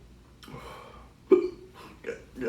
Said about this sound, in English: Got me the hiccups.